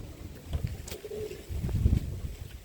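A Birmingham Roller pigeon coos softly nearby, one low drawn-out coo over faint background rustling, without talk.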